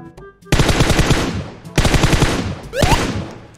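Automatic gunfire in the mobile battle game PUBG Mobile Payload mode, two loud rapid bursts of shots close by, followed by a shorter third burst with a rising whine.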